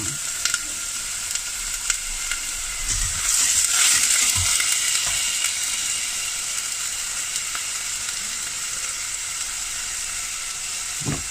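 Diced ginger and garlic frying in a pan, a bright continuous sizzle that surges briefly then settles, with occasional light thumps of a utensil nearby.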